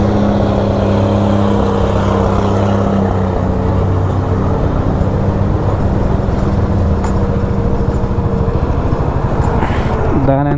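A loaded army lorry grinds up a mountain road with a steady, loud engine drone and low rumble throughout, joined by faint traffic noise and a brief rising whine near the end.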